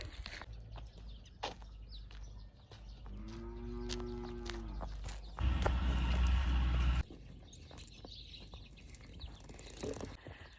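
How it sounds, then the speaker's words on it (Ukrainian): A cow lows with a long, tonal moo midway through, outdoors on an autumn village morning as the cattle are led out to pasture, with rustling footsteps and other farm noise around it. "Веду корову вже пастися"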